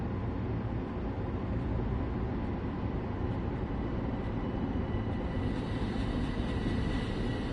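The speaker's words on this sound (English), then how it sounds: "another train just pulled in" A train pulling into a station in Train Sim World 2 on the Harlem Line, a steady loud rumble of rolling wheels and engine noise with no break throughout.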